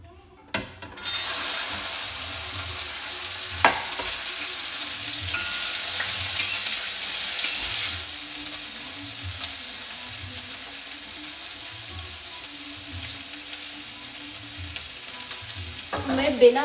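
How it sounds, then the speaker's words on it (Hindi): Okra frying with carom seeds in hot oil, a steady close sizzle with periodic stirring scrapes and occasional sharp clinks of a utensil against the pan, with no one talking. "तो मैं भिंडी अजवाइन में छोड़ती हूँ।"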